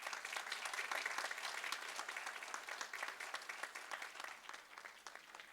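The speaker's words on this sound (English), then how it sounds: "Let's give him a round of applause" Board of Education meeting audience giving a round of applause, a faint, steady patter of many hands clapping that gradually thins out toward the end.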